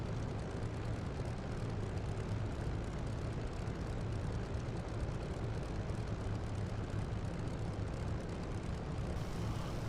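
Steady, loud drone of a propeller airplane engine at takeoff power in a flight simulator game, a dense continuous roar holding for the whole stretch with no voices.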